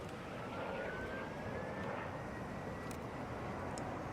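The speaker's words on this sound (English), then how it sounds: "Is it a Pilatus PC-12?" A Pilatus PC-12 turboprop comes in to land at Atlanta airport, a steady airborne engine rumble with a faint rising whine, heard at moderate distance over constant background noise.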